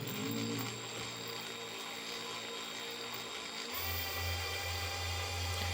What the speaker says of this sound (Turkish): Ben bunu bir matkapla deneyeyim.